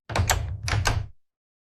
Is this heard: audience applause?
no